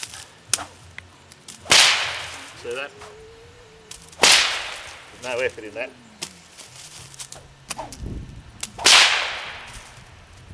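A whip gives several sharp, loud cracks spaced a few seconds apart, each with a swishing lead-in, while someone talks between the cracks.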